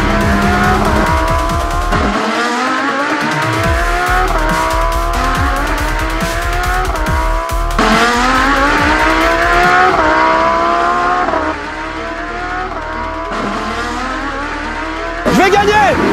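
Lamborghini cars racing in a game-style contest, engines revving up again and again in rising gear-change sweeps with tire squeals, loud and close throughout, with a voice talking over the action.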